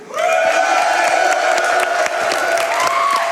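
Live audience at SGDQ, a speedrunning marathon event, cheering and whooping loudly with scattered applause, a sustained crowd roar with rising shouts that fills the whole moment.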